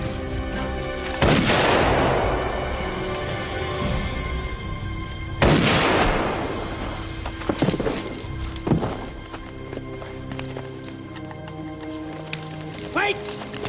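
Heavy gunfire and booming blasts in a TV drama scene, two big bursts followed by scattered shots and crackling debris, loud against a rain-like wash, with shouting voices.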